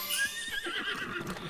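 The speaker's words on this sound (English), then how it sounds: "Well, it spawned fucking Epona. I mean, Epona's a good horse" Epona, a horse in the video game Zelda Breath of the Wild, lets out a loud, close whinny, a high, wavering neigh that rises and falls over its brief length with no talk over it.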